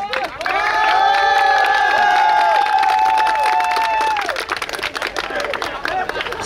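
Crowd applause and cheering at a youth football tournament award ceremony in Gia Lộc, loud and steady with a sustained tonal sound riding over it for several seconds before easing slightly.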